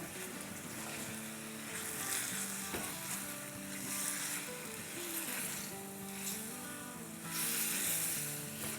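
Yogurt and masala frying in a pan for a chicken curry, a loud continuous sizzle with occasional stirring scrapes and swelling bursts of bubbling, while a faint musical tone hums in the background and no one speaks.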